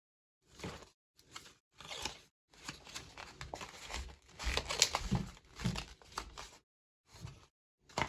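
Perforated edges of a cardboard six-cupcake box folded down by hand, giving bursts of crinkling, creasing and scraping separated by short pauses, close and fairly quiet.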